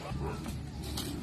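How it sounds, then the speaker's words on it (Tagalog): Several dogs yip and bark in short, overlapping bursts at moderate distance, with faint voices and background noise mixed in. "maraming aso"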